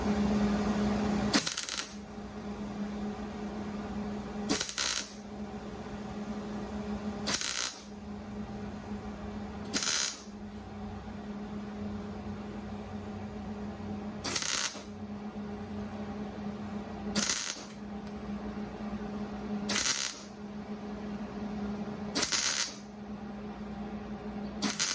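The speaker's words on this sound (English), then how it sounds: "let's fire up the welder and let's get this thing put in" Welder tacking a new inner wheel well panel into an MG Midget: about nine short, sharp bursts spaced a few seconds apart over a quiet workshop hum.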